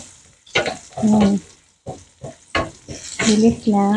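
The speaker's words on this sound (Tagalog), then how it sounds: "gisa natin ang garlic" Garlic and spinach sauté in hot oil in a pan, a soft sizzle and stirring running beneath a person talking in short bursts close by.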